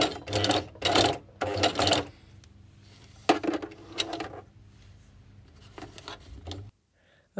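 Singer 4411 domestic sewing machine sewing through a jeans hem and back tacking, in several short close bursts of loud stitching, then a quieter stretch that cuts to silence near the end.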